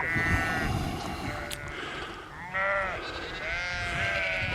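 Sheep and lambs bleat in a field in Burton in Lonsdale, several calls in quick succession at moderate distance, some overlapping, over soft outdoor background noise.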